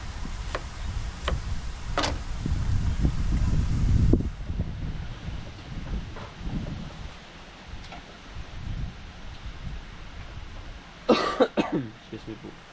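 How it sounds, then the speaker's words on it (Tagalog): Coughing from a person in a home kitchen while cooking dinner, a few harsh bursts amid ongoing kitchen noise and background talk. "Inuubo po ay."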